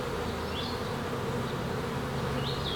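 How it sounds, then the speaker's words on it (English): Honey bees at a hive hum in a dense, continuous buzz that stays close and steady throughout, with no voices. "A lot of bees here still."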